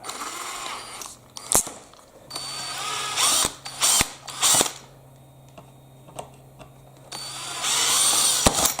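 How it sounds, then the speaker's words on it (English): A small hand drill with a 3mm bit whirs in several short bursts separated by pauses, with clicks and handling noises in between, close by. "Then taking our 3mm drill bit"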